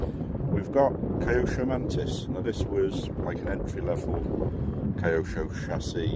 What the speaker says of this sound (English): it's very windy, so you'll have to excuse the noise on the video